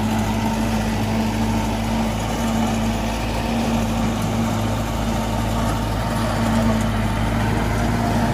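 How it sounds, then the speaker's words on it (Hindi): A diesel engine from an Arjun tractor drones steadily beside a maize silage harvester. The sound is a constant, loud, low idle hum with a mechanical whine, continuous for the whole stretch with no talking. "अर्जुन ट्रैक्टर है जी"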